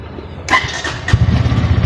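A Bajaj Pulsar N150 motorcycle is started: a short starter whir, then the engine catches and settles into a close, loud, uneven idle.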